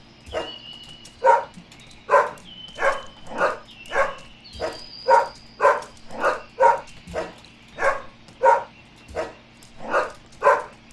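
Repeated dog barks from a Helltown horror video game, sounding in a steady series of about fourteen sharp, loud woofs roughly every half second to second, over a low droning game ambience.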